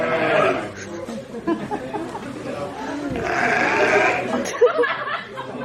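Sheep bleat several times in an outdoor farm setting in Scotland, their wavering calls rising over people chatting and laughing nearby.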